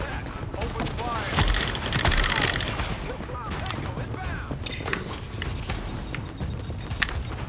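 Rapid gunfire in The Division crackles in clustered bursts amid battle noise and chatter, moderately loud with sharp repeated shots and scattered impacts over several seconds.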